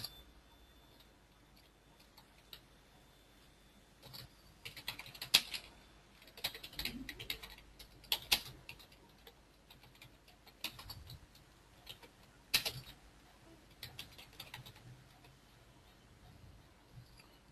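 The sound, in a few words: typing a password on a computer keyboard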